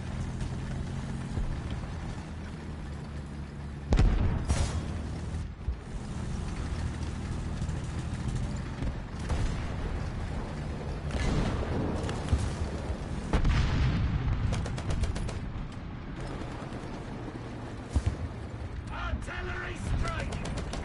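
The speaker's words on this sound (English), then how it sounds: "Artillery strike!" Artillery strike explosions in the tank game War Thunder: several heavy booms and rumbling blasts land over a continuous low battle din, with sharp impacts around four and thirteen seconds and scattered smaller bangs throughout.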